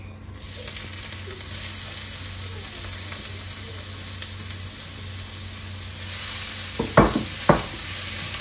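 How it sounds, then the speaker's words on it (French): Onions frying in about two tablespoons of hot oil in a wok, a soft, even sizzle that runs throughout, then a few sharp utensil knocks near the end. "Je fais chauffer et je vais pouvoir ajouter mes oignons."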